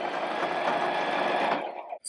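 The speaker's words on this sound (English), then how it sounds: "So I'm gonna start sewing." A sewing machine stitches a shirt in a fast, steady, close-up mechanical whir that runs continuously for about two seconds and then cuts off.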